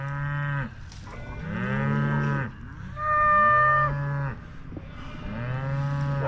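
Several cows moo loudly in a barn, long harmonic calls following one another with short gaps, close and alone with no talk.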